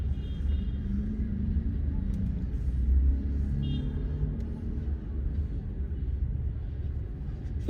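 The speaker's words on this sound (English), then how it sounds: "These cars are going hog wild." Steady traffic on a city street at the corner of Market Street and Main in Paterson, New Jersey, cars rumbling past nearby in a continuous low roar with no clear gaps.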